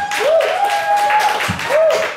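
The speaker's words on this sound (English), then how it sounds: "keep that applause going now" Audience applause for a live band at a small concert, mixed with a sustained tone that rises and falls like a whistle or feedback; the clapping is loud and swells in waves.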